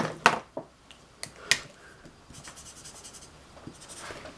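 A marker pen shades a drawing on paper, with a few sharp close scratchy strokes early on followed by softer, faster rubbing strokes.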